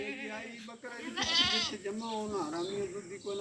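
A goat on a farm gives a short nasal bleat at close range, heard beneath a man's ongoing speech amid other animal sounds.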